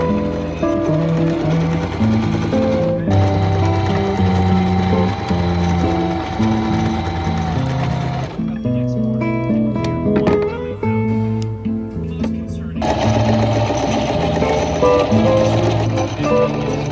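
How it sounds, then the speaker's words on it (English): A sewing machine stitches the side seams of a skirt, a loud, steady rapid mechanical whir running continuously with a short pause and change of pace midway, close and alone. "now I'm just gonna sew the sides"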